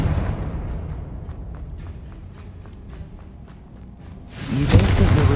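A Confringo fire spell blast erupts in Hogwarts Legacy, a sudden loud burst near 4.3 seconds rising out of a quieter bed of soft thumping footsteps and low rumble, then lingering as a bright crackling roar.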